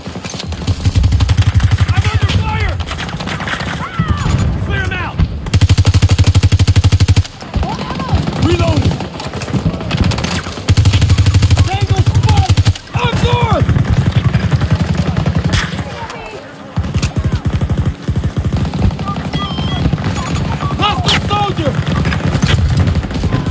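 Heavy, continuous gunfire in Battlefield 2042 on the Discarded map, with loud bursts of automatic fire and overlapping shots from several weapons, broken by brief gaps and shouted voices.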